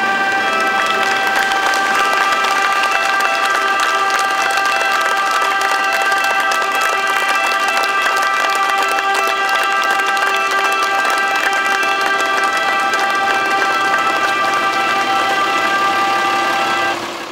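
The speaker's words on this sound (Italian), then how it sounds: "Accompagnato dal suono delle sirene e da un applauso, il feretro di Maurizio Berardinucci ha lasciato la caserma" Continuous, steady applause with sirens as a firefighter's coffin leaves the fire station barracks in Pescara, holding a constant dense wash with tonal siren lines running through, loud throughout.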